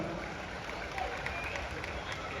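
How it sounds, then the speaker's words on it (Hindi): An audience at an election campaign rally in Gurugram claps steadily, a dense, even wash of applause heard from a short distance without voices over it. "पूरी किशन कृपा जी और समिति भी आई है, उनके लिए भी जोरदार तालियां बरवानी"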